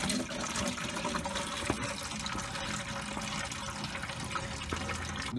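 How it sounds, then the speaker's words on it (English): Coolant water drains from the radiator of a 2007 Hummer H3 during a water pump replacement, a steady splashing gush that runs continuously and moderately close, with no talking over it. "we open the radiator cap. Let that water flow faster."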